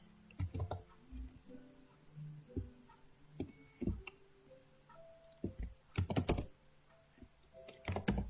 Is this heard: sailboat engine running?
no